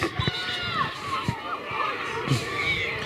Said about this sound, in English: the loud crowd over the far side getting very frustrated